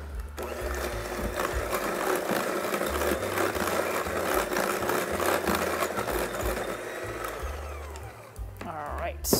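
Kitchen blender whizzing an egg with a teaspoon of vanilla for lemon blueberry breakfast cake, a loud steady motor whir running for several seconds before cutting off near the end.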